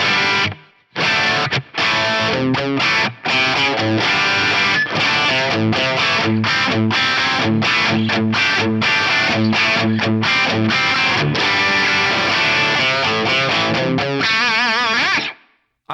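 Electric guitar played through a Nano Cortex with crunchy distortion, loud driven chords and notes strummed for about fifteen seconds, first dry and then with reverb added, ending with a ringing tail before cutting off.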